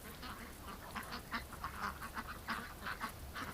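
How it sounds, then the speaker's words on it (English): Male mallard ducks, green-headed drakes, quack repeatedly in a loose, overlapping chorus at moderate distance, with steady outdoor background noise underneath. "There are so many ducks with the green heads starting to appear."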